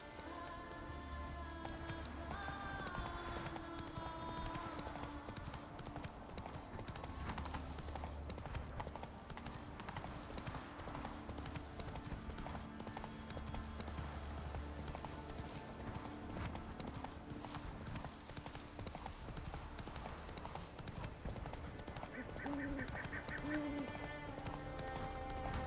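The horse Roach gallops in Witcher 3, rapid game hoofbeats running steadily throughout under a faint ambient game score.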